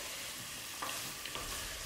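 Bacon lardons sizzle steadily in a pan with no added oil, a dense, even frying hiss with a few small pops, alone and fairly quiet.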